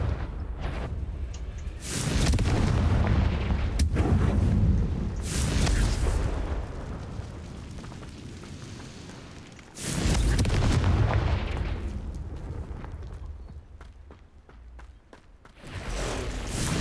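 Fireball spell blasts in a video game go off as deep, rumbling booms, several heavy bursts spread across the stretch, each swelling and slowly fading into a busy, noisy game background.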